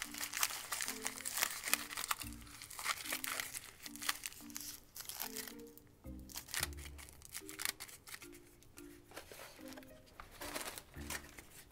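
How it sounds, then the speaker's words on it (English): Tin foil is crumpled and shaped by hand while sculpting, producing continuous close crinkling and crackling with soft rustles, a little muffled scraping and faint background music. "While I'm sculpting, I'm going to shape it as I'm crumpling it."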